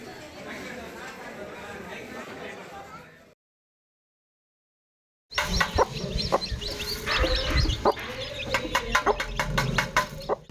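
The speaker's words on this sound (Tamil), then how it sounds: "கண்கள் இன்றி பிறந்த கோழி குஞ்சு ஒன்று தாய் கோழியின் சத்தத்தை கேட்டு நகர்ந்து செல்வது" A mother hen clucks near a chick born without eyes in a village near Ettayapuram, Thoothukudi, Tamil Nadu. Clucking and chick sounds come in short repeated bursts, close and fairly loud, after a noisy stretch and a brief silence.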